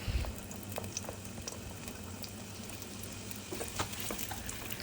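Sliced onions frying in hot coconut oil for a crab curry, a steady close sizzle with faint crackles throughout.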